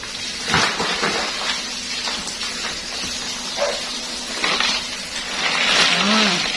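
Water poured out of a container in a home kitchen while preparing a seafood box, splashing and hissing with a few clinks of items, moderately loud and close.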